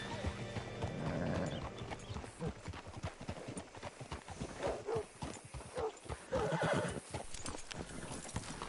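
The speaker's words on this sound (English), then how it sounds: "Hitch your horse up here." A horse in the Red Dead video game clip-clops along and gives a neigh as it is brought up to be hitched, with hoofbeats and movement mixed under background talk.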